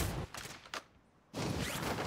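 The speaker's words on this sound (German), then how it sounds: "Hier schießt einer auf mich." Gunfire in Call of Duty: Warzone comes in short, loud bursts separated by a brief quiet gap, with close, sharp rapid shots at the start and end.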